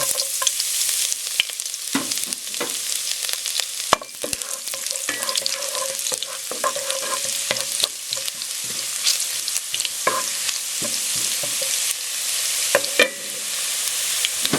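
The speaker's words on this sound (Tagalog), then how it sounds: "Naglagay tayo ng 1 tablespoon of cooking oil. Then, itong garlic gigisa natin." Garlic sautéing in a tablespoon of cooking oil in a deep pot, a steady bright sizzle throughout with clatters and scrapes of stirring, close and fairly loud, no voices.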